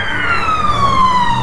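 A police siren wails outside a house, its tone sliding steadily downward as the vehicle passes by, loud and clear with little else around it.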